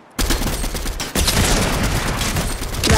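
Sustained gunfire in the Fortnite video game, a dense and loud continuous barrage of overlapping shots with almost no letup, and no talking.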